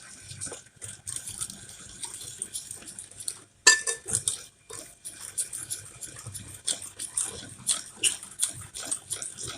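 A utensil whisks pancake batter in a bowl, giving uneven rhythmic clinks and scrapes with a sharp knock partway through. Soft background noise runs underneath.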